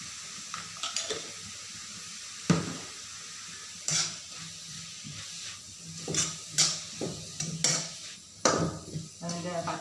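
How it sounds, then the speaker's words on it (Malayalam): A spoon clinks and scrapes against a pan while onion thoran is stirred, with a faint sizzle underneath and a few sharp metallic knocks toward the end. "അതും കൂടി ഇട്ടിട്ട് ഇളക്കി കൊടുക്കുകയാണ്"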